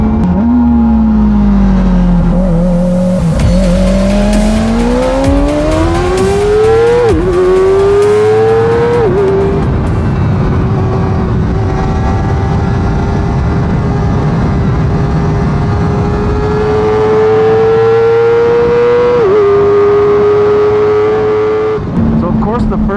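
A Kawasaki Ninja ZX-4RR inline-four motorcycle engine revs steadily to a high-pitched scream near 16,000 RPM, holding and climbing in pitch for a long stretch before dropping off.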